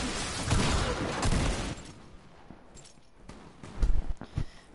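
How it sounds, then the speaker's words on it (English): Gunfire in a Fortnite match: broadband bursts of shots early on, a quieter stretch, then a few sharp, louder cracks near the end, with no speech. "Dude, where are you shooting at me from?"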